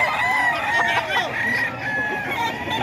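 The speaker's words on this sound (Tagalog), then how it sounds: "Napakaraming manok dito mga ka-idol ngayong Friday. Dito sa Bukawi, oh." Roosters crow loudly over a dense chorus of clucking chickens at the crowded Bocaue poultry market, with steady market noise and faint voices underneath.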